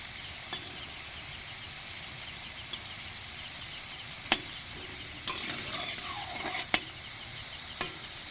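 Potatoes frying in a pan give a faint, steady sizzle, broken by a few sharp clicks and clatters of a utensil against the pan.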